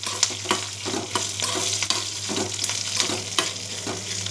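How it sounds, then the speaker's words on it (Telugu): Dried red chillies and curry leaves sizzle in hot oil for a green tamarind chutney, a steady frying hiss broken by repeated scraping stirs of a spoon against the pan, close and with no talking. "ఇప్పుడు ఎండుమిర్చి వేసుకొని 1 నిమిషం వేగించుకుందామండి."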